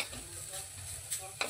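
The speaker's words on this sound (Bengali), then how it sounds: "নারকেলটা কিছুক্ষণ আমরা কড়াতে একটু নেড়ে চেড়ে নিয়েছি।" Grated coconut is stirred in a kadai for a filling of kesar mawa modak, giving a quiet, continuous scraping and rustling with a faint sizzle and a couple of sharper clinks near the end.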